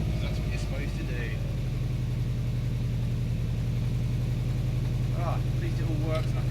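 A cold Metro 6R4 Impreza engine runs with a deep steady rumble that rises slightly in a rev partway through, heard from close by. Someone talks over the engine noise.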